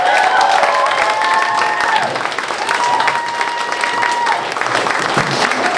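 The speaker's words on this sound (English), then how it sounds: "Please, big round of applause for the panel" Audience applause for a panel at the close of a live discussion session, a steady dense wash of clapping lasting throughout, loud and close, with tonal chime-like notes ringing over it.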